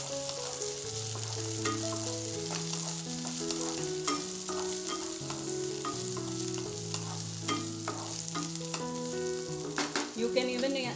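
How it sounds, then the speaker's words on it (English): Onions and capsicum sauté in a pan over a high flame, a continuous sizzle with occasional stirring scrapes, partly covered by steady melodic music playing over it. "I'm going to add capsicum to it and saute them also for a minute's time"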